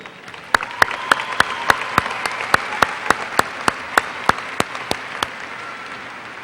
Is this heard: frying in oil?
no